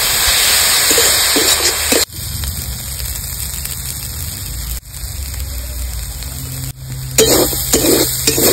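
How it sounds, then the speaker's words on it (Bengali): Pea greens (motor shak) fry in a pan with a loud, hissing sizzle, broken by short abrupt cuts and returning each time. No one speaks. "আমি একদম প্লেন ভাবে শাকটা ভাজছি"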